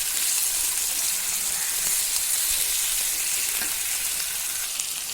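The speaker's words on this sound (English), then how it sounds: "Just added the chicken pieces and I'm cooking them, frying them for some time." Chicken pieces fry in a pan for a spicy Goan xacuti, giving a steady, close, even sizzle with faint stirring and no voices.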